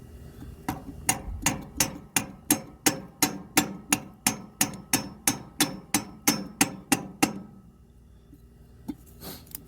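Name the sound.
hammer tapping oil filter into Ferguson tractor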